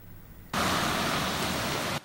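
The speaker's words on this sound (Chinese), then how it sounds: "大雨滂沱，车辆行驶，" A sudden burst of loud, dense rushing water noise, like heavy rain or a vehicle splashing through deep floodwater, starts after a quiet moment and cuts off abruptly about a second and a half later.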